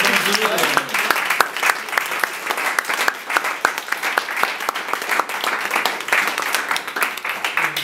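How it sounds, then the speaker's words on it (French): Lively audience applause with distinct sharp claps at a café preview screening of a series episode, sustained throughout, with a voice or two talking over it. "j'aimerais qu'on applaudisse tout ce beau monde"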